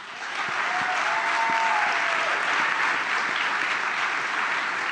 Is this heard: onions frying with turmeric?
no